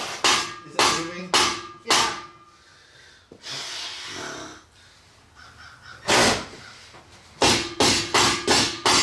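Sharp metallic hammer blows strike a Ford Mustang bumper diffuser in quick bursts, several close together, with breathy grunts and rustling between the impacts.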